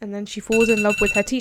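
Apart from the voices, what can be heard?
phone alarm ringing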